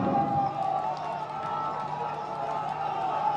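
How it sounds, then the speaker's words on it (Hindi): Crowd clapping and cheering at a public government event in Khetri, Rajasthan, attended by Chief Minister Gehlot: a continuous, blended roar of hands and voices with a steady hum running underneath. "एक बार जोरदार तालियां।"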